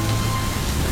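Drizzling rain makes a steady, soft, even hiss throughout, with no other sounds over it.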